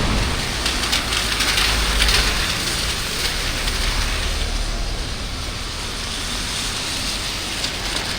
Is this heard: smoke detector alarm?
no